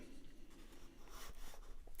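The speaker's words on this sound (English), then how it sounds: "I wanted to fill the page with graphite" Soft, steady scratching of a solid graphite pencil shading across paper, quiet and close, with a brief louder scrape at the end.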